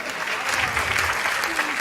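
Dense, sustained applause from a large crowd at a Hindi comic poetry gathering, a continuous roar of clapping heard from a distance, with a faint voice beneath it.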